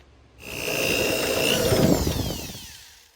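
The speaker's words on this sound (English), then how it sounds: "We're gonna get the drill out. We're gonna just drill them out" A power drill whines steadily, drilling out screws in a car door with a grinding, rattling buzz that rises and then winds down; close and loud, no talking.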